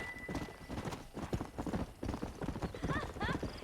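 Hooves clip-clop in a steady trot in the Red Dead Redemption video game, near and continuous, with a horse whinnying briefly near the end and someone talking over it.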